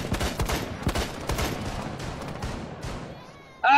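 Shotgun blasts go off in a firefight in the Rainbow Six Siege video game, a rapid run of loud booms in the first half that thins into scattered fainter shots, ending with a brief sharp burst.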